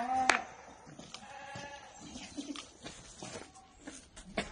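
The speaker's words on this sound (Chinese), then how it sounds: "这种是山羊，在山上的波尔山羊" A Boer goat at an eco livestock farm gives a short, sharp bleat near the start, followed by faint rustling, shuffling and scattered background noises.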